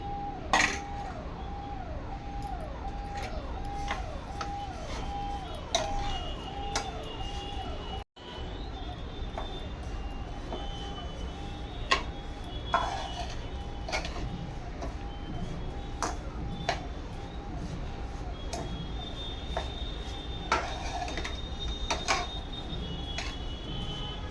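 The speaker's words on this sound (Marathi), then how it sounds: "साखर अशी पूर्ण हलवून घ्यायची" A utensil stirring sugar into a grated coconut and milk mixture in a metal pan for narali pak vadi, steady rhythmic scraping and clinking knocks repeating for over twenty seconds, close and clear.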